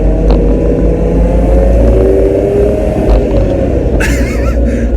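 A Lamborghini LM002 engine roars loudly as the gas pedal is floored on a road, a dense, steady rumble with road and wind noise and a brief whir near the end.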